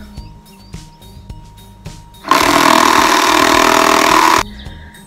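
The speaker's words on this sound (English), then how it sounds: "I think I need a stronger electric screwdriver." Electric screwdriver driving screws into wooden garden posts: after a quiet stretch, one loud, close whirring burst runs for about two seconds and then stops abruptly.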